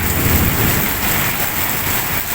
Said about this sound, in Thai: ฝนตกเยอะแรงมากนะครับ